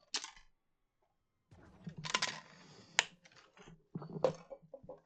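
Computer keyboard keys clatter in quick irregular bursts while a player games at Fortnite, close and crisp, with short pauses between flurries of typing.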